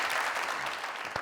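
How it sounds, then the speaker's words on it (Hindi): Studio audience applause at a Pakistani comedy talk show, a dense burst of clapping filling the short moment at steady loudness, tapering slightly near the end. "तालियां।"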